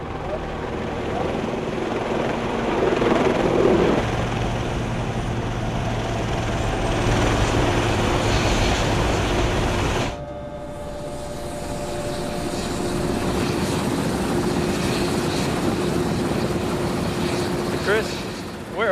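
A helicopter flying out to the Perdido offshore platform in the Gulf, its steady engine and rotor drone loud and continuous throughout, dipping briefly midway before resuming.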